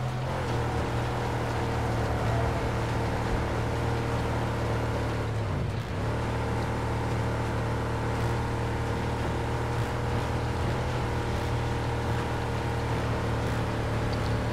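A car engine drones steadily while driving in the Mad Max video game, with a loud, continuous low hum and a brief dip in the roar partway through.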